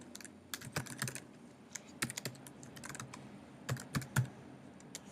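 An email address being typed on a computer keyboard, a quiet, close run of irregular key clicks in short bursts separated by pauses.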